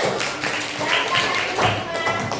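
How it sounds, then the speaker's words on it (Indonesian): Schoolchildren in a classroom clap for a classmate after a tea-making demonstration, a brisk, dense burst of many hands close by, continuous for the whole stretch with uneven surges. "beri tepuk tangan untuk Dimas"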